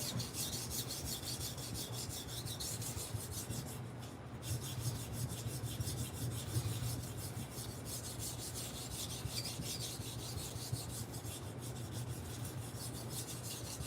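Knife blade honed on a Washita sharpening stone: a quiet, continuous scraping rub with rapid, even back-and-forth strokes, heard close up with no voices.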